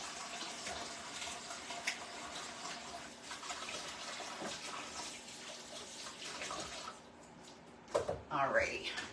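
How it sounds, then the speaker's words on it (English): Tap water runs steadily into a kitchen sink while hands are washed, a constant close splashing rush that stops near the end, followed by a few brief knocks. "wash the hands"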